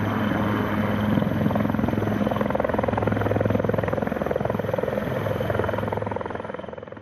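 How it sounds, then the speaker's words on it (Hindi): A helicopter drones steadily overhead during an avalanche rescue operation in snowy mountains, its rotor thumping in a continuous loud chop that fades slightly toward the end. "एक बार फिर आसमान पर हेलीकॉप्टर मंडराने लगे हैं।"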